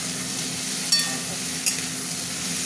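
Whole okra fries with softened tomato in a pan, producing a steady, close sizzle broken by two faint metallic clinks as the pan is stirred, with no talking.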